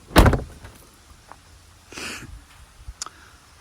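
The rear doors of an all-black stealth van open with a loud clunk of the latch, followed by a softer swing and creak, then a couple of small clicks as they settle.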